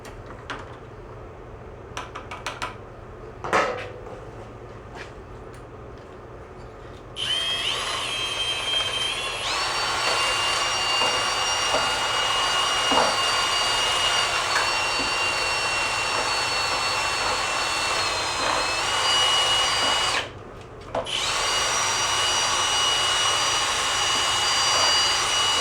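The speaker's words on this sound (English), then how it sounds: "drilling" An electric drill working on a Puch moped part, a high steady whine that starts after a few quiet seconds of handling, runs loud and close, cuts out briefly and resumes.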